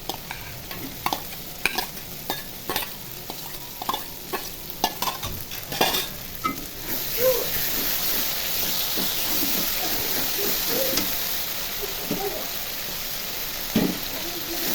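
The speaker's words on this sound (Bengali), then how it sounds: "শুটকিগুলো আমি ধুয়ে পরিষ্কার করে নিয়েছি, এখন কষিয়ে নিব।" Washed dried fish is stir-fried with turmeric, chilli, coriander and salt in a pan, rhythmic spatula scrapes and clatter giving way to a louder continuous sizzle and hiss.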